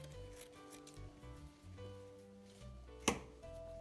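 Scissors cut paper for a fox portrait collage: quiet rustles and small snips, then one crisp cut near the end, all over soft background music.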